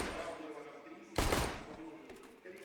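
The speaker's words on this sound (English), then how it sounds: "Wall banging with the Glock." A Glock pistol fires through a wall in a professional CS:GO match. A single sharp, loud shot bursts out midway through, over quieter game ambience.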